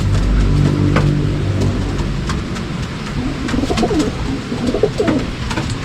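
Racing pigeons coo in low, throaty bursts close by, several birds overlapping, with a faint engine rumble in the background.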